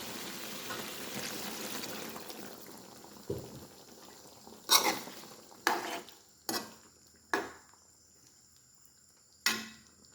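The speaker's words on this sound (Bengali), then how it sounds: "এখন আমি পরিমাণ মতো জল দিয়ে দেবো" Water goes into a pot of sizzling potato and meat curry: frying hiss and bubbling at first, then several sharp metallic clinks of utensils against the pot, spaced a second or so apart.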